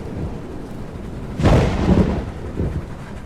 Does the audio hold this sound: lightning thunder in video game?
yes